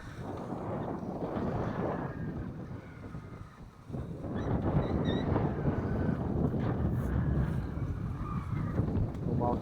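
Strong following wind of 20–22 knots gusting to 30 buffets a sailboat running downwind under genoa alone off Gruissan, a constant roaring rush with heavy low rumble and microphone buffeting, swelling louder partway through.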